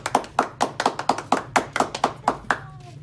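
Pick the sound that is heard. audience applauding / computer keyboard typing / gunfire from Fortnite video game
audience applauding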